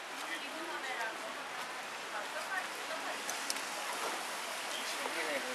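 Steady rain falling on a town street during a walk in the wet, a soft continuous hiss of drops spattering on surfaces that holds constant throughout, with no clear talk over it.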